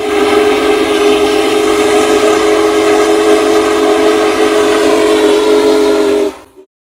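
An American steam locomotive's whistle blows in one long, loud, sustained chord-like tone, holding steady for about six seconds before cutting off abruptly.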